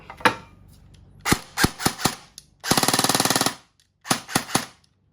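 Test shots from an E&C641 air gun fitted with a foam-lined muffler kit: sharp, close single cracks, a rapid automatic burst lasting under a second, then more single shots, with no talk.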